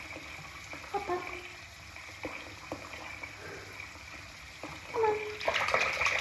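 Water runs steadily into a bath with a continuous splashing rush, growing louder toward the end, while a person speaks briefly nearby.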